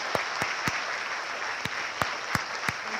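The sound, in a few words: audience applause after a talk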